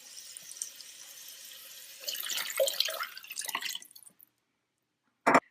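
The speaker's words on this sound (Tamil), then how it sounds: "இப்போ நம்ம இதில் தண்ணி ஆட் பண்ணுறோம்." Water pours into a dried anchovy fish curry masala with a soft gurgling splash for a couple of seconds, then quiet, then one brief sharp splash or clatter, close by.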